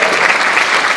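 Church congregation applause, a steady wall of loud, dense clapping filling the whole short moment without pause.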